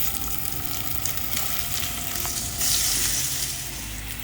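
Raw green plantain pieces frying in hot oil give a steady, dense crackling sizzle that holds throughout and swells briefly louder near the end, with no talk over it.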